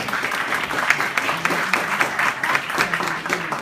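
Audience at an Imam Hussain poem competition giving a round of applause: a steady, full wash of many hands clapping together, moderately close, with no clear talk over it.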